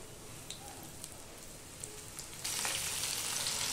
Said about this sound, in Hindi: तेल गरम हो चुका है, अब हम इसमें कोट की हुई बोंबिल डालेंगे